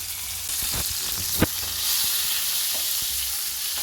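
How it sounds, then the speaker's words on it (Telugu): Cumin seeds hit hot oil with fried green chillies for a mint chutney, a bright crackling sizzle with a few stirring clicks and one sharp knock, close and steady. "ఇప్పుడు జీలకర్ర వేస్తున్నాను"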